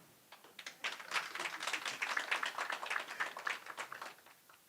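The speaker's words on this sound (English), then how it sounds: "a round of applause to the ladies" An audience at a KMTC SHA stakeholder engagement forum gives a round of applause for the ladies, faint, somewhat distant clapping that swells quickly, holds in a brisk, rhythmic patter for a few seconds, then tapers off.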